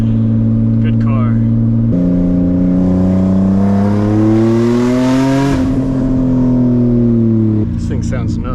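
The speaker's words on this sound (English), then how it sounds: "First wide open throttle pulls were a great success." A single-turbo Nissan 350z with a DE engine runs a wide open throttle pull. The loud, close engine note climbs steadily in pitch before dropping off, with brief voices near the start and end.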